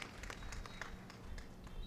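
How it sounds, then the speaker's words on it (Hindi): Applause from an audience at an inauguration ceremony for general surgery machines in India, a steady patter of many hands clapping at a moderate distance for the whole stretch, with a few sharper claps standing out. "तालियां सबकी जोरदार बजनी चाहिए अजीत सरिया परिवार के लिए"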